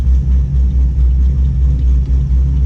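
A supercharged 2015 Chevrolet SS Camaro engine under a hard pull gives a loud, steady, deep rumble that pulses slightly throughout, heard from inside the car with no talking.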